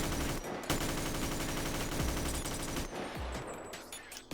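Rapid bursts of M16A1 rifle fire in a Bonelab VR mod, dense cracking shots close and loud, sounding throughout with brief gaps.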